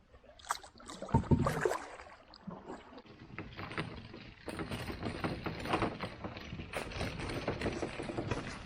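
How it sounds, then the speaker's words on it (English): Canoe paddling along the shoreline of a pond in the St. Regis Canoe Area in fall: soft, close paddle strokes and water swishes in an irregular rhythm, with gentle drips and wooden knocks and no talk. "We just paddled the shoreline of this really nice pond."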